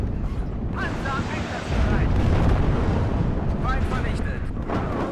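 Artillery fire in the war video game WARNO, a sustained heavy rumble of distant blasts and booms in a town battle, with voices talking over it.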